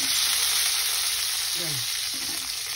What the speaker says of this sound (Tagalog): mix natin itong okra